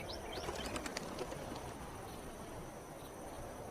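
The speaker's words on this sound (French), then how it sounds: "je crois que tes oiseaux sont revenus" Birds in a My Little Pony cartoon chirp faintly and briefly at the start, with a soft rustle of wings and a steady hiss of background noise, and no talking.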